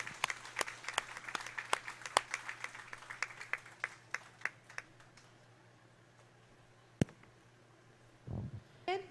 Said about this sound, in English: Let's give her a well-deserved round of applause.